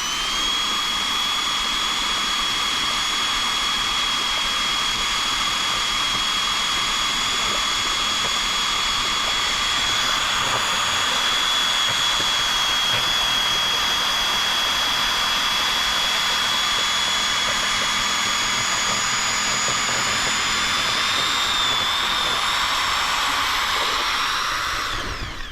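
A drill spins a 3-inch marine-type impeller through a bucket of Jetcoat Supreme driveway filler and sealer, giving a loud, steady high whine that holds unbroken for the whole stretch.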